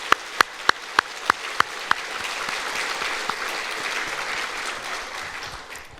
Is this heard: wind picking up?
no